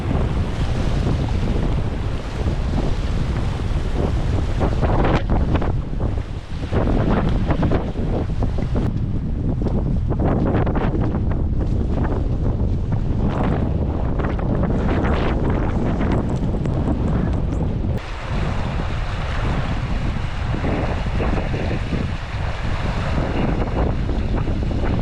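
Heavy battering wind on the Laugavegur Trail in Iceland, a loud continuous roar buffeting the microphone for the whole stretch, with surging gusts and rumbling low buffets and no voices.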